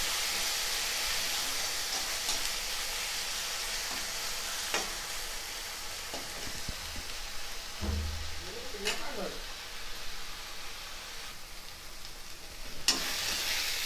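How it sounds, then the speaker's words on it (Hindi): Garlic and green chili paste fries in a pan with a steady, fairly loud sizzle, a few utensil clinks and scrapes rising over it partway through. "लहसुन हरी मिर्च का पेस्ट डालकर भूनूंगी।"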